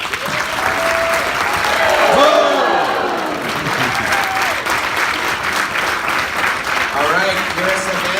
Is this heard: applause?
yes